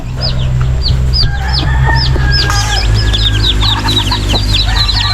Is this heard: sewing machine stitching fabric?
no